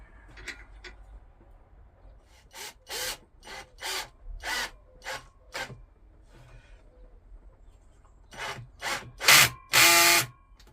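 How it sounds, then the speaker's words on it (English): A hand screwdriver turns a screw into wood in a series of rhythmic rasping, creaking strokes, close and clear, with pauses between bursts and louder grinding turns toward the end. "I'm having to resort to doing it by hand with a hand screwdriver"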